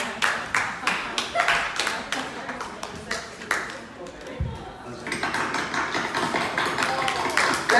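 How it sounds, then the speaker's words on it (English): Clapping from an audience at a gathering honouring the founders of the Marianist Movement, uneven at first and then building into steadier applause. "Let's give them a round of applause."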